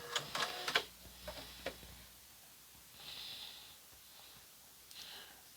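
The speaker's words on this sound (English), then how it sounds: "Decorative Stitches on the 6800C heavy duty sewing machine by Singer" A Singer 6800C heavy duty sewing machine stitches decorative patterns, with a quick burst of mechanical clicks and needle taps at the start, then scattered ticks and a soft motor whir, fairly quiet and close.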